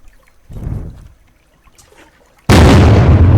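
A gun fires in a Minecraft server game with a sudden, loud blast that holds as a harsh, sustained burst of noise after a quieter stretch of low rumbles.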